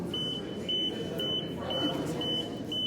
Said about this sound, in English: that's a beeping sound with a beeping vibration